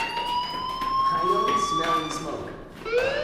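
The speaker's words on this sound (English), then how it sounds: "Hey, do you hear that fire alarm?" A fire alarm rings in the video game Life is Strange, a steady electronic tone with rising and wavering pitches that holds throughout, with faint background game sounds.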